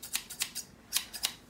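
Scissors snip through glossy 1987 magazine paper for a collage, giving about six crisp, close cuts in an uneven rhythm, with no talking over them.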